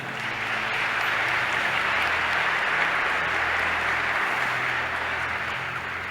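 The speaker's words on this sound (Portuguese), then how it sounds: "Ao Espírito Santo, uma salva de palmas." A congregation at a Christian worship service applauds, giving a steady, even wash of many hands clapping at moderate volume throughout, with no speech over it.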